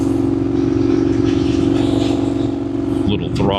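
A 2019 Indian FTR 1200S motorcycle engine runs with a strong, steady droning note, loud and close, with a voice speaking over it.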